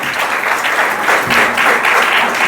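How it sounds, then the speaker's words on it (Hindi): A seminar audience on women's empowerment in Mangalore breaks into loud, dense applause that fills the hall without pause from start to finish. "जोरदार तालियां बजाएं सर के लिए प्लीज।"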